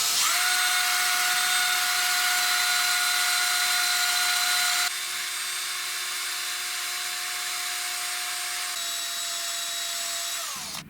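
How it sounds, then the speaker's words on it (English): A power drill whines at a steady high pitch, running continuously with one slight drop in speed midway, a buffing pad spinning against a brass latch. "now I'm going to use that to buff out the latch"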